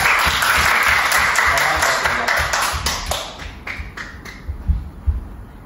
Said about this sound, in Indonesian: Ya, kita beri tepuk tangan yuk.